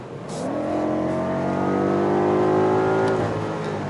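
A 2019 BMW M5 with a 600-horsepower engine and xDrive all-wheel drive accelerates, its loud engine note climbing smoothly in pitch and holding strong for several seconds.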